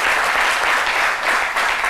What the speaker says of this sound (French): Maman, levez-vous, on va vous applaudir.